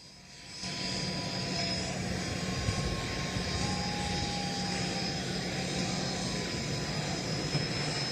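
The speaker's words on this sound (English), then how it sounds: "the plane gets a little bit closer to us" An airplane engine drones steadily as the plane approaches to land in San Antonio, a broad, constant roar that swells in after a quieter start and holds, fairly loud and close.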